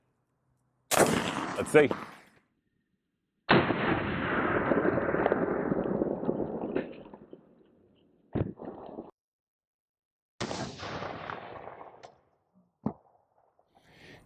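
Rifle shots from a 16-inch barrel at 15 yards hit a Level III lightweight armor plate: five sharp, loud reports, spaced several seconds apart, several with ringing decays. A voice speaks briefly.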